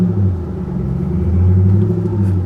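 A salvage Roush 427R Mustang Track Pack engine rumbles and revs steadily as the car creeps forward, a deep continuous drone with no talking.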